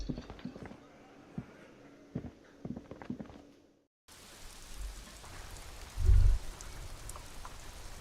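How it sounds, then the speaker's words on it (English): Steady rain hisses across a wide area of a city in a video game, after a quieter stretch of footsteps and clops, with a low rumble swelling near the end. "Rain drips from the eaves and floods the gutters"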